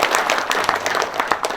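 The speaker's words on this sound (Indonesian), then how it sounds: "Tepuk tangan tegak lurus saja udah." Audience applause at an Indonesian Ramadan fast-breaking gathering: a short burst of dense, uneven hand-clapping from a crowd, loud and close.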